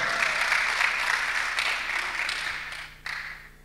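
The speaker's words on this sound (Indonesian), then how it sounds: "Tepuk tangan buat Tuhan." Church congregation applauding during an Indonesian sermon, a dense wash of clapping that holds steady, thins out toward the end, then briefly swells again.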